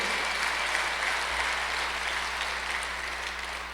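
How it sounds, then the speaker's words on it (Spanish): A church congregation claps steadily in a dense, continuous wash of applause lasting the whole stretch. "Démosle palmas al Señor, hermano."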